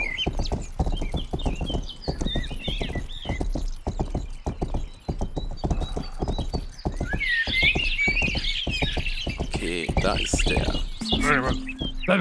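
Hooves clip-clop in a fast, steady rhythm as a horse is ridden in the medieval video game Rustler, with bird chirps scattered over the top and a short whinny-like burst midway.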